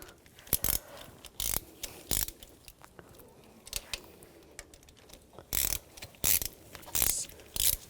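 A ratchet snugs up the turbocharger bolts on a 2004–2009 Audi A4 Quattro 2.0L, giving quiet clicking strokes in irregular bursts, close up, with brief pauses between runs.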